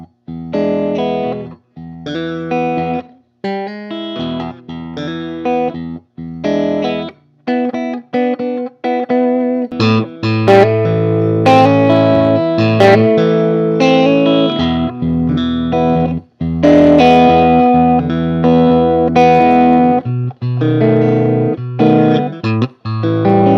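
A loud electric guitar played through a Fender Pawn Shop Excelsior amp with its grinding distortion, chords and riffs ringing out in bursts with brief gaps and no talking.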